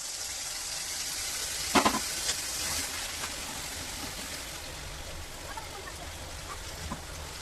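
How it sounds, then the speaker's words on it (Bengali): Masala paste poured into hot oil in a kadai, giving a steady, loud broadband sizzle with a brief burst as it hits the pan, then a constant hiss. "তেল গরম হয়ে গেছে, মশলাটা এখন ঢেলে নেব।"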